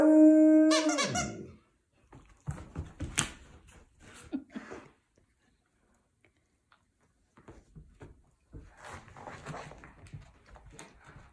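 American Akita dogs handling a new stuffed squeaky toy, with a burst of sharp squeaks near the start followed by softer rustling, chewing and a few faint squeaks, while a person talks intermittently.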